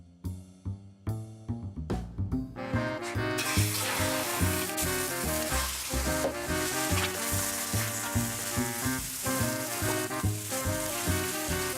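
Squid frying in oil with a little salt sizzles loudly and continuously in a pan, a dense steady hiss with bubbling crackle that swells after the first few seconds and holds.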